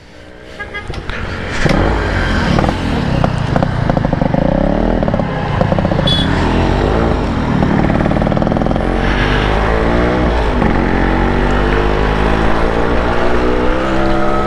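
Yamaha RX Z two-stroke motorcycle riding, its engine a loud, steady close drone for most of the stretch after a quieter start, with some rattle and vibration clatter.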